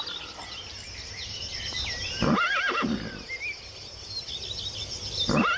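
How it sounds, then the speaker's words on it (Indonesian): A horse neighs in a loud whinny midway through, with another shorter neigh at the end, set against steady insect and bird chatter outdoors. "Wis, keluarlah seekor kuda."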